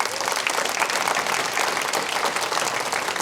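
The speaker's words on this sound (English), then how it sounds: "we're going to give you another round of applause because you more than deserve it" An audience at a 2022 corporate summit session applauds loudly with dense, sustained clapping that fills the room throughout.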